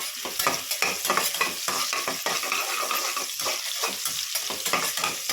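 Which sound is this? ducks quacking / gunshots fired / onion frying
onion frying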